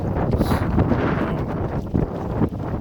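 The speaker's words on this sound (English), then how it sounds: "it's pretty windy out here on Stillhouse" Strong gusty wind buffets the microphone on a 20-foot boat moving into the wind on Stillhouse lake, a dense low rumble with shifting bursts and no clear voices.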